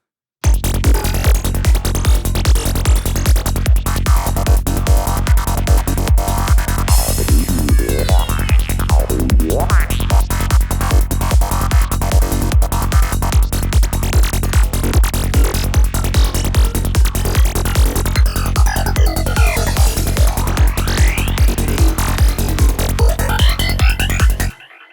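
Synth lead sequence from the LD Squelcher preset with delay, riding over a steady pounding four-on-the-floor kick in a looping electronic track, loud and unbroken throughout.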